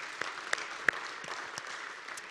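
A congregation claps together after a thank-you, a steady patter of hands at moderate volume with a few sharper individual claps standing out, fairly brief.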